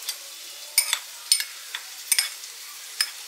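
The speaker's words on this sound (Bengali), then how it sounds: "এটা এবার মিক্স করে নেব।" A spoon mixes a sauce of chili, tomato, soy sauce and vinegar in a small bowl, making a handful of quick, bright clinks and scrapes in short clusters against a quiet background, close by and with no speech.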